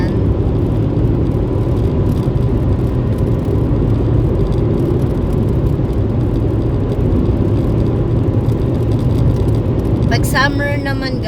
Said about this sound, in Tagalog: medyo madami na yung mga sasakyan